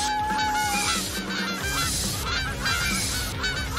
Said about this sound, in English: Why are there so many geese?